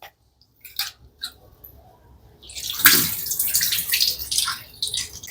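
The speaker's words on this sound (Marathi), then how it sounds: "हे मी आता 2-3 पाण्याने चांगले धुवून घेते तांदूळ" Rice grains being rinsed by hand in two or three changes of water in a home kitchen for sweet saffron rice, with a few soft sloshes at first, then a steadier close swishing and dripping of water.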